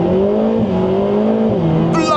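A 2025 Lotus Emira Turbo SE in sports mode accelerates hard. Its engine gives a loud, close, droning tone that holds and briefly dips, as if shifting gears, before a sharper burst at the very end.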